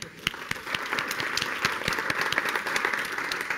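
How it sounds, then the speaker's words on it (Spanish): A crowd at a sales talk applauds steadily, the dense patter of many hands clapping holding at an even level throughout. "Darle un aplauso."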